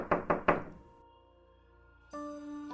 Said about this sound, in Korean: 문 앞에 서 있는 누군가가 계속해서 일정 간격으로 문을 두드리기 시작했다.